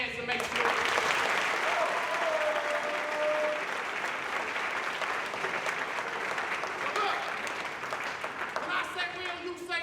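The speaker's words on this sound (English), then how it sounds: "I want you to clap your hands and make sure" A youth audience at a college-bound scholars town event claps and cheers, a sustained roar of applause with voices and shouts woven through it.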